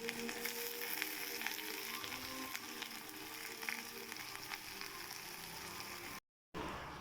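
Pirandai (veldt grape) frying in sesame oil gives a steady, fairly quiet hissing sizzle that runs unbroken for several seconds before a brief cut near the end.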